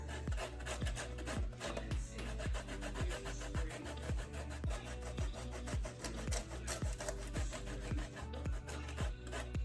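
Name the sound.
cheese being grated onto salbutes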